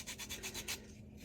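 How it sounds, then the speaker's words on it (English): Hand sanding a 3D-printed part with folded sandpaper held over the fingertips: about six quick, close back-and-forth rasping strokes in a steady rhythm, then the scraping stops. "just a bit of sandpaper like this, fold it over on your fingers"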